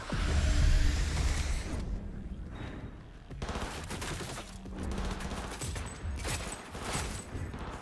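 Sustained bursts of automatic gunfire and rapid shots from a firefight in the video game Cyberpunk 2077, loud and dense throughout with brief whooshes between volleys.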